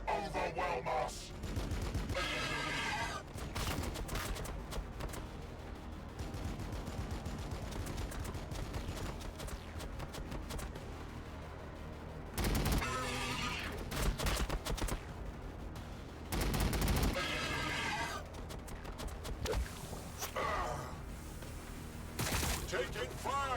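Gunfire in the strategy game Warhammer 40k Battlesector, with bursts of rapid shots and heavier blasts that come and go amid battle noise, while in-game voices speak over parts of it.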